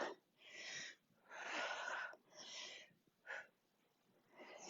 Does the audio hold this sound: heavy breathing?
yes